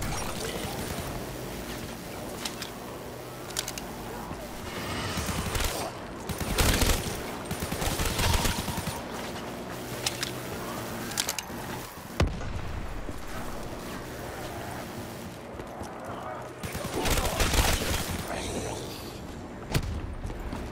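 Bootlegger gun firing in a video game, dense rapid bursts of automatic fire that swell loudest around 6–8 and 17–19 seconds amid constant loud game noise.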